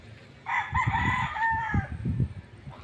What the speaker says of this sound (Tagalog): ang ating mga alagang manok